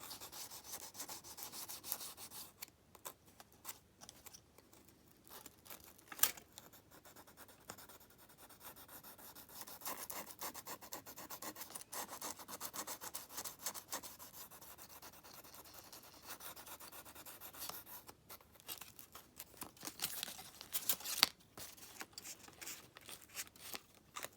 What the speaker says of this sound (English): Just taking the first layer of that edge off, because you've got 4 more grades of sandpaper to come